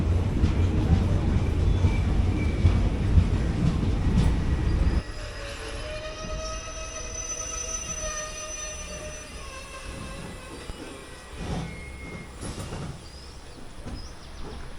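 The 17235 Nagercoil Express pulls into Kuzhithurai station with a loud rumbling of cars that drops off after five seconds, followed by drawn-out metallic wheel squeals, faint clatter and scattered background noise as the train slows.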